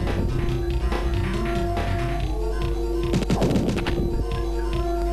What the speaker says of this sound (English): A giant machine gun